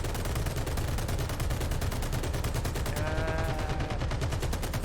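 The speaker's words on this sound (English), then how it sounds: "You can't hit them with machine guns." Machine gun fire in War Thunder tank combat: a loud, close, sustained stream of rapid evenly spaced shots, with a faint whistling tone rising midway.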